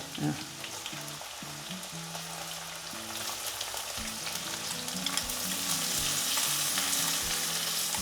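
Chopped onions and curry leaves fry in a pan for sabudana khichdi. A loud, continuous sizzle with stirring builds gradually over a low melodic background tone.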